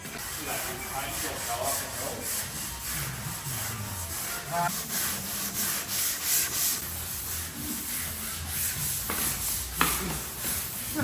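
Continuous rasping hand sanding of a Holden HK Monaro car panel, strokes rubbing back and forth on the hard panel with uneven rhythm, close up, with faint talk in the background.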